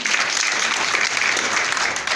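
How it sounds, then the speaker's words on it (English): Steady applause from an audience at a free exam-preparation training programme event, dense clapping from a crowd filling the whole stretch at an even level. "round of applause for that"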